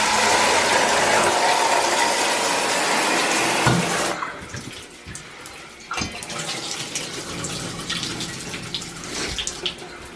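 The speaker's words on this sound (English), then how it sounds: "the shower pressure is like kind of lacking" A hotel shower at the Holiday Inn Washington Capitol runs with weak pressure, a loud hiss of spraying water that drops to a softer, uneven splash with occasional knocks as the flow changes.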